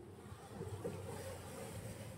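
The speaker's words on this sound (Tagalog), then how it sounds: "walang masyadong naliligo kasi nga napakalakas ng alon" Strong ocean waves roll onto a sandy beach in Baler, heard as a faint, distant, steady surf roar mixed with light wind noise.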